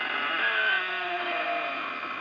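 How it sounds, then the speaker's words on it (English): An outdoor door squeaks in a steady, drawn-out whine of about two seconds, high-pitched and unbroken, with nothing else sounding over it. "now there's a squeaky door outside, and it sounds kind of similar"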